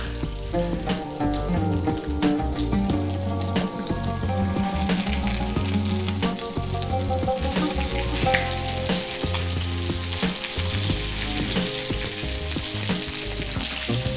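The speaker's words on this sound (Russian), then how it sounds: "Слишком долго жарить не надо." Loud, steady sizzling and crackling of lamb legs frying in a hot pan, close up, with faint scraping and water-like hiss under it.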